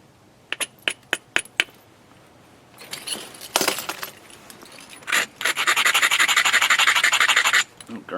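A dacite river cobble's platform edge is ground down during flintknapping: several sharp scraping strokes, then longer rasping rubs and a sustained gritty grinding, close and alone.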